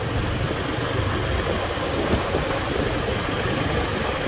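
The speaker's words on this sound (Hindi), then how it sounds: "बाइक चला रहा हूँ एक हाथ से छोड़ के" Motorbike ridden one-handed along a road, heard as a constant broadband rumble of engine and wind buffeting with no change in level, with no voices.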